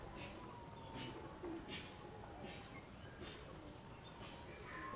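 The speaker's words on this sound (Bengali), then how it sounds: "এটা নর কবুতর" A male high-flying pigeon coos in soft repeated phrases, roughly one every second or so, fairly close but quiet against a faint background.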